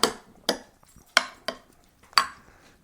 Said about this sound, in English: Stir that around just a little so it gets evenly dispersed.